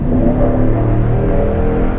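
A 2018 Toyota Tundra's 5.7-liter V8 engine revs loudly and steadily, a deep, continuous rumbling roar close by with no talking.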